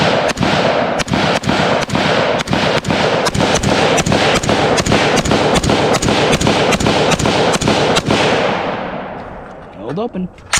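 Semi-automatic fire from an SG-553 rifle at a shooting range: about twenty loud, sharp, evenly spaced shots in steady rhythm for eight seconds, then a few quieter metallic clicks.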